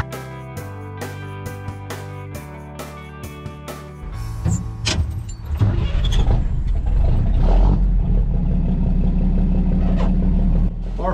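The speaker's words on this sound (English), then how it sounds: "Our 41 Chevy three-quarter ton truck has got a stock four-speed transmission" A 1941 Chevy three-quarter ton truck with a stock four-speed transmission, heard first at a steady idle with ticking, then the engine opens up into a loud, sustained labouring drone as it climbs a grade.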